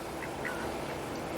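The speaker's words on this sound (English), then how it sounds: "we've got the ducks in the swimming pool" Ducks quack around a backyard swimming pool, a steady wash of close, overlapping calls and rustling with no voices.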